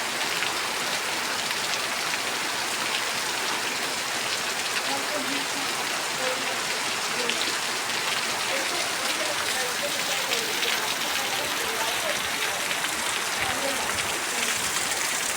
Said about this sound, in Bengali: কতটা বৃষ্টি হচ্ছে দেখুন,